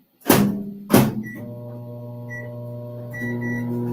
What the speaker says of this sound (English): Let's get these back in the microwave.